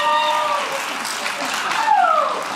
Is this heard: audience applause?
yes